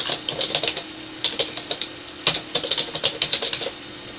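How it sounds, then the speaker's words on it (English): Typing an email address on a computer keyboard, a steady run of light, close key clicks in quick irregular rhythm with short pauses between groups. "enter the email in the BCC email address field and click Add BCC Address"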